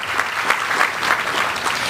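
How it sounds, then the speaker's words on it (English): A large audience at a technology summit gathering applauds loudly, a dense, continuous patter of many clapping hands that holds steady from start to finish, close and full. "Give yourselves a round of applause."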